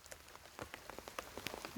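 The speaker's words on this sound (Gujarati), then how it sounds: "એ ઝીણો ઝીણો એવો વરસે રૂપારો" Light drizzle pattering on a surface, soft scattered drops tapping irregularly at close range with no voices.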